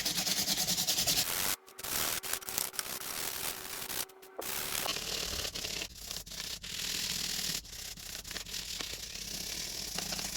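Close, dry scrubbing of a brush working foam over an electric switchboard, continuous rubbing strokes with a couple of brief pauses, fairly quiet and with no talking.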